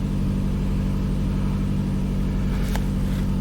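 A 2005 Toyota Camry engine idling slightly high after throttle body work, a steady continuous low hum with no revving, heard close and alone.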